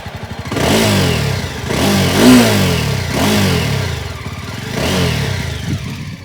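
Jawa Special Edition motorcycle engine revving with a deep exhaust beat, loud and close, rising and falling in several throttle blips over a steady thumping idle.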